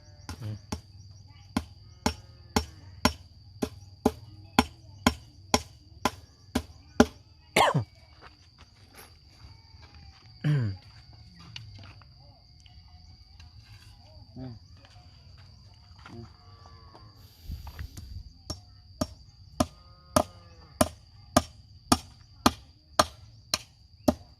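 Steel nails hammered into a roof to patch a leak, a long run of sharp, evenly spaced blows close by, pausing briefly midway before the steady strikes resume.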